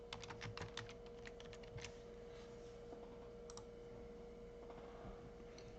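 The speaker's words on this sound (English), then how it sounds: "I'm over here typing some information into a search engine." Rapid, uneven keystrokes on a computer keyboard as someone types into a search engine, with clustered clicks at the start and then sparser taps, close and fairly quiet over a steady low hum.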